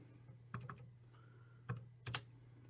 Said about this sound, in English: I can type all of this into the calculator and find the area of that triangle.